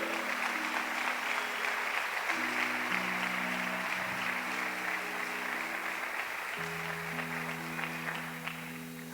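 A church congregation applauds steadily through a sustained wash of clapping, under held organ or keyboard chords that shift pitch. The sound stays fairly even and tapers slightly at the close.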